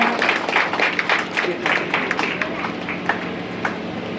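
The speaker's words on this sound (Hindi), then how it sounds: "तालियां बजाइए।" An audience at an Assam Regiment Rising Day felicitation ceremony in Pailapool, Cachar, claps in a dense patter that fades after a few seconds, with a voice faintly underneath.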